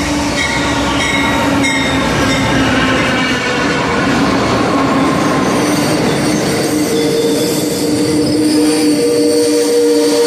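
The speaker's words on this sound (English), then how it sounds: "Another long train." A long Amtrak passenger train rolls past close by at a small station, a sustained rumble with squealing wheels and clacking rail joints that continue steadily throughout.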